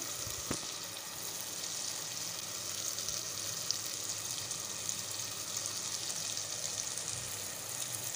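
Dried fenugreek leaves go into frying maash dal, which keeps up a soft, steady crackling sizzle with one sharp click near the start.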